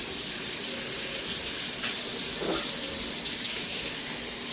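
Tap water runs in a steady hiss while hands are washed at a home kitchen sink during homemade pizza prep, with a brief splashing surge near the middle and no talking.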